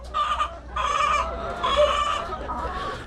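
Laying hens on a small mini farm cluck steadily and fairly close, a few overlapping birds voicing in repeated bursts with short pauses, no talking.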